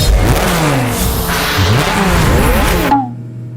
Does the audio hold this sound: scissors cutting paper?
no